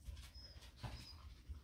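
Dog whimpering, heard as quiet, thin, high whines in a short burst of two or three soft cries with faint low thumps beneath them.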